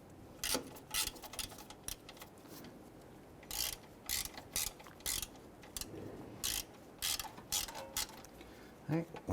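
Ratchet cranking on an engine mount bolt during a hydraulic mount replacement on a 2012-2017 Toyota Camry, a run of sharp clicking bursts in close, repeated strokes with short pauses between them.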